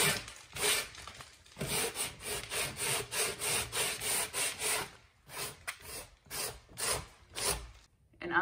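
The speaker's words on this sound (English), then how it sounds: "So I'm going to sand it. I have a sand block." Sanding block rubbed back and forth over a dried knockdown ceiling patch, a close, continuous run of rhythmic rasping strokes that speed up and then break into separate passes near the end.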